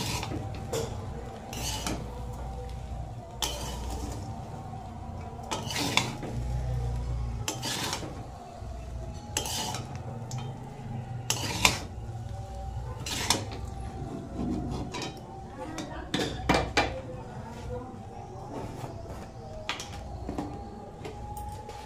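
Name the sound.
mixing fried rice in a pan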